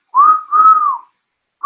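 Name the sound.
halftime whistle sound effect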